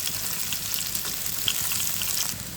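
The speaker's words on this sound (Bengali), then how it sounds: "এখন আমি পেঁয়াজ কুচি দিয়ে দিচ্ছি, আর সাথে দিয়ে দিচ্ছি শুকনো মরিচ।" Chopped onion and dried chili fry in hot oil in a home kitchen, giving a steady, close sizzle and crackle with occasional stirring scrapes and no talking.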